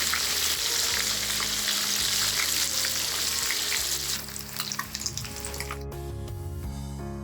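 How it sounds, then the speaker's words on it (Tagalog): Rabbit fish frying in hot oil in a pan give a steady, close crackling sizzle, which thins out and becomes sparser popping toward the end. "we have to fry first the fish"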